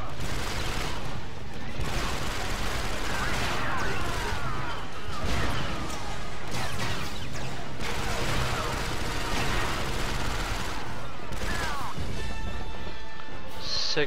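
Heavy repeater blaster firing in Star Wars Battlefront 2 on a modded Alderaan map, continuous rapid shots with crashing impacts throughout, dense and loud amid other battle noise.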